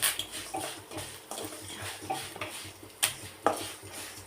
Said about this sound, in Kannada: ಕರಿಬೇವು ಸೊಪ್ಪು ಬಿಟ್ಬಿಟ್ಟು ಫಸ್ಟು ಇದನ್ನೆಲ್ಲ ಫ್ರೈ ಮಾಡ್ಕೊಂಡು ಸಣ್ಣ ಉರಿಯಲ್ಲಿ ಇಟ್ಕೊಂಡು ಫ್ರೈ ಮಾಡ್ಕೋಬೇಕು